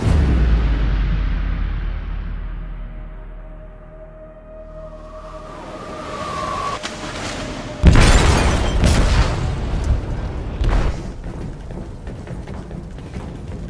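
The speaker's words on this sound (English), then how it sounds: "They detonated an explosive in the hold." A loud explosive blast detonates in a ship's hold in the Detroit Become Human game. A sudden booming impact follows quieter rumbling ambience, then a rushing roar and scattered debris crashes trail off.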